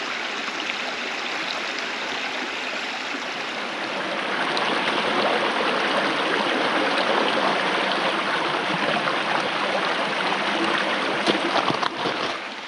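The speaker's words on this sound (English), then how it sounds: "I'm right by this creek, so that should drown out any noise and just hear that all night" Steady rushing and babbling of a creek, close and continuous, swelling slightly louder partway through with no voices.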